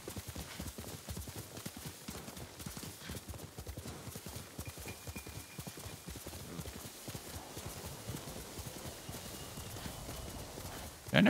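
A horse in the video game Ghost of Tsushima gallops with a steady, rapid run of soft hoofbeats throughout, a neigh rising at moments, all fairly quiet, with a louder thump at the very end.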